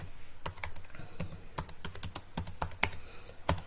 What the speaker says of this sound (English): in that Google account you type Google form.